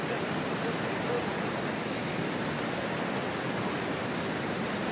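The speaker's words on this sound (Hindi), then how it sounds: "आप लोग देख सकते हैं मेरे पीछे ये झरना है" A mountain waterfall near Norbong on the Shillong road roars as a steady, dense wash of rushing water, even and unbroken from start to finish, with no talking over it.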